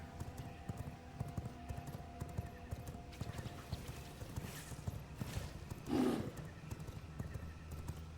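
A horse galloping in the video game V Rising, with steady rhythmic hoofbeats and a whinny partway through, heard over game ambience and background music.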